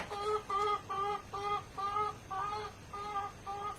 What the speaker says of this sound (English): can someone feed my chicken?